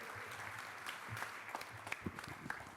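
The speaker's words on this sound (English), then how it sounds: "So let's have a nice round of applause for Joe." Faint, distant audience applause at a county Republican candidate forum, a continuous patter of many hands clapping with a few sharper individual claps, steady throughout and without speech.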